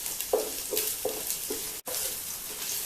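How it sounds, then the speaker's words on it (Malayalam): Minced garlic and slit green chillies sizzle in hot oil, a steady frying hiss with a few soft stirring scrapes repeating about every half second, close and fairly loud. "ഇതിലേക്ക് നമുക്ക് ഒരു തോടം വെളുത്തുള്ളി ചെറുതായിട്ട് അരിഞ്ഞ് ചേർത്ത് കൊടുക്കാം."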